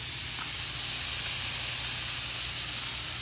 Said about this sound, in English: Can you hear that? It's nice and sizzling.